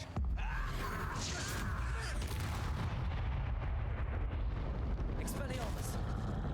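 Confringo fire spells blast in Hogwarts Legacy, with loud booming explosions and a continuous rumbling roar, one sharp burst right at the start, then dense crackling impacts throughout.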